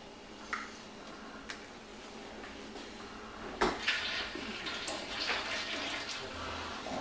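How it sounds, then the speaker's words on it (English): Water pours steadily into homebrew pumpkin ale wort in a mini mash, a faint continuous splashing with a few small knocks and clatters nearby. "we're going to go ahead and add another gallon of water"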